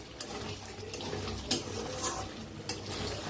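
A spoon stirs stuffed bell peppers cooking in a pan, soft scraping and wet sizzling with a couple of sharper clinks against the metal, close and steady.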